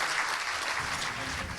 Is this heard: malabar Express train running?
no